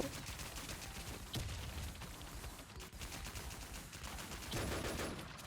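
Rapid bursts of video game gunfire in RetrospectZ rattle out close and loud, with overlapping rounds in quick succession like machine-gun fire.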